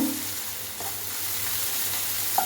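Salted onions sizzle in a pan of hot oil, a soft continuous frying hiss with a couple of faint clinks, like a spoon touching the pan, and no talking.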